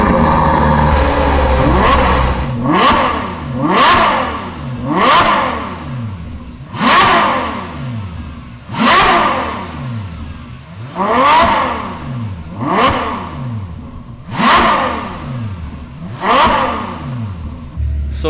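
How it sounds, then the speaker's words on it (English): A 2019 Ferrari 812 Superfast on its stock exhaust idles, then blips its engine in a series of about eight sharp, high-pitched revs, each rising and falling back, loud and close. "So this is how the 812 Superfast sounds with the stock exhaust system before we replace with IPE Exhaust."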